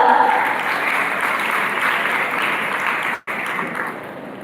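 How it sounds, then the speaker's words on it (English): A school audience at a G20 youth event gives loud, sustained applause welcoming delegates, a dense wash of clapping that briefly drops out before resuming. "Please welcome them with a huge round of applause."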